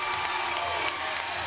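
A school gym crowd cheers loudly after a boys basketball state championship final win, a dense sustained roar of shouting and applause.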